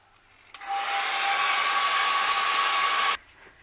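A handheld hair dryer drying a freshly painted layer in a mixed media craft piece, switched on with a click and running as a loud, steady, close whoosh for about two and a half seconds before cutting off abruptly.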